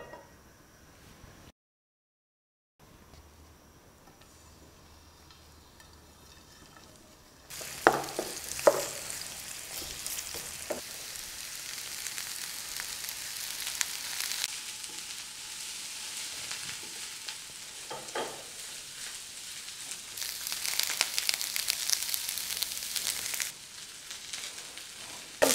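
Cabbage frying in a pan for samosa filling: a soft, quiet sizzle at first, then louder bright hissing and crackling with occasional stirring scrapes, steady and close.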